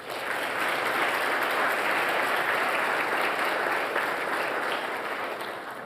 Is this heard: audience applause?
yes